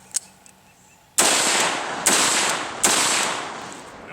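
A rifle loaded with a Magpul Gen M3 20-round PMAG fires three loud, sharp gunshots about a second apart, each with a long decaying echo, after a few faint handling clicks.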